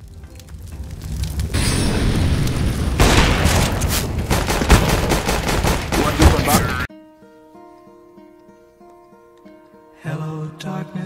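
Dense bursts of gunfire and booming blasts from a CS:GO match, loud and continuous for several seconds, then a quieter stretch of game music and tones before another burst at the end.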